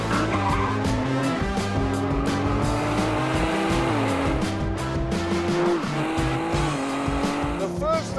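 A Ford GT supercar driven hard with its anti-lag system engaged roars loudly and continuously, its engine note rising and shifting through gears, with tyres squealing and a voice talking over it.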